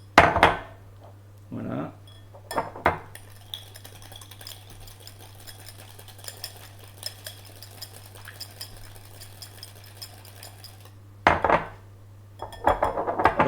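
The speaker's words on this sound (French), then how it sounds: "Je vais commencer par l'assouplir, donc au fouet" Almond cream is whisked in a bowl to soften it, making a rapid, faint, continuous clicking over a low steady hum, with brief talk and clatter at the start and end.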